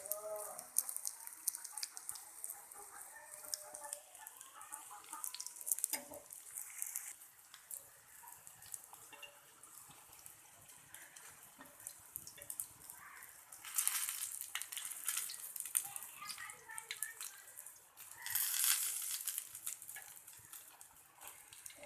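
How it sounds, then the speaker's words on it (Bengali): Small shrimp fritters (kucho chingri bora) frying in hot oil give a soft, steady crackling sizzle, quiet overall, with a few louder bursts of spattering later on. "এইভাবে সব বড়াগুলো ভেজে নেব আমি।"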